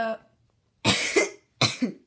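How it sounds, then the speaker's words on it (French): Two harsh coughs, close and loud, follow a moment of voice, with short silences between. "Tu tousses beaucoup."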